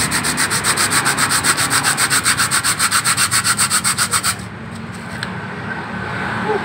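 Coarse sandpaper on glass rubbed by hand against a motorcycle clutch part in straight strokes, a steady rhythmic rasp of about thirty quick back-and-forth strokes that stops abruptly, leaving quiet room tone.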